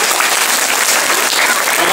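A holiday show audience claps steadily, with dense, sustained applause filling the whole stretch at close range.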